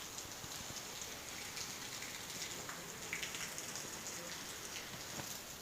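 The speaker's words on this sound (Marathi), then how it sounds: "हे बघा लय जोराचा पाऊस चालू आहे." Heavy rain pours down in a steady, dense hiss of drops striking surfaces, holding even and unbroken throughout, with no one speaking.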